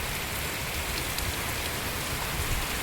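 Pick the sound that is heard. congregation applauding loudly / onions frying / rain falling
rain falling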